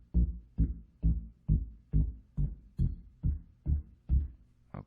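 Hammond B3 organ bass line played with the left hand shadowing the foot pedals: about ten steady, evenly spaced low thumping notes, close and fairly loud, with no other sounds.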